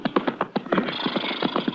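Horse hooves clip-clop in a steady, fairly close rhythm for a 1950 western radio drama, Tales of the Texas Rangers, a borrowed corral horse heading up into the hills, with no talk over it.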